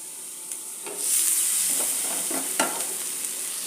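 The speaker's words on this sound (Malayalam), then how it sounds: "ഇനി അടുത്ത് ചെയ്യേണ്ടത് ഒരു തക്കാളി ചെറുതായിട്ട് അരിഞ്ഞത് ഇതിലേക്ക് ചേർക്കുക." Chopped tomato dropped into a pan of potato masala, setting off a loud, close sizzle with steady frying hiss and a few stirring scrapes and clatters throughout.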